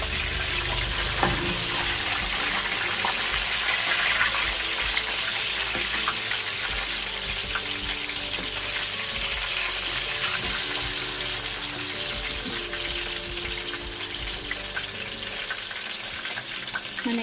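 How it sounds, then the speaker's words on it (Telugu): Fish fries in a pan over a medium gas flame, a dense steady sizzle and crackle that runs on without break at close range, with no voices. "ఒక నిమిషం పాటు కదలకుండా ఫ్రై చేయాలి"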